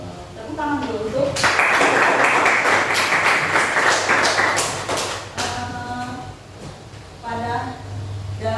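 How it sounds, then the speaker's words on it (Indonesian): Applause from a classroom audience during an economics lesson, a dense burst of clapping that swells for about four seconds, then fades into talking. "Tepuk tangan dulu untuk"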